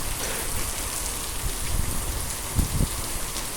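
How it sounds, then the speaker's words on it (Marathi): Heavy rain pours down steadily before a motorcycle ride on the Gujarat coast, a dense continuous hiss with a few dull low thumps, with no voices. "पण तुफान असा पाऊस आलेला आहे"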